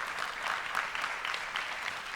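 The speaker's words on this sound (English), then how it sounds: "some applause for Epic." Audience applause at the 2014 Oculus Connect keynote, a steady wash of clapping from a large crowd in a hall, fairly distant and even in level throughout, with no talk over it.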